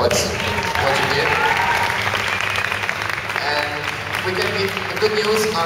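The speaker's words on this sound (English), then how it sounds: "So I want to give you an applause for what you did." Audience applause at a Comic Con Portugal Q&A session, a dense, sustained clatter of many hands from a large crowd, with a voice speaking over the clapping.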